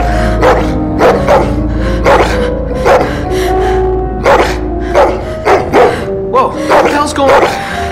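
A dog barks repeatedly in short, loud bursts over steady background sound in the Telltale video game The Walking Dead: The Definitive Series, Season 4, played on Xbox One.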